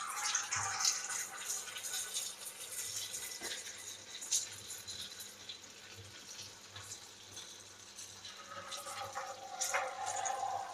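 Hot cooking oil bubbling and frothing up in a pan as it comes to frying temperature, a steady sizzling hiss with small crackles and pops running throughout.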